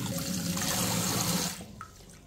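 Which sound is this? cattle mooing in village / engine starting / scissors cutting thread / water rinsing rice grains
water rinsing rice grains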